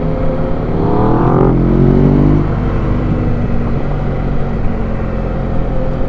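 A loud BMW R1 motorcycle ahead on a group ride blares close by, with a rising rev early on that settles into a continuous heavy engine drone mixed with wind rush.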